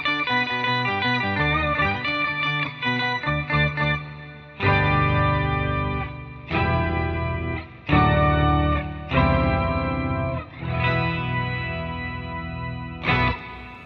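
Electric guitar played through a BIAS FX 2 Elite pack preset that mimics an organ, sustained chorus-heavy chords and runs with a smooth, swelling organ-like tone, alone and close.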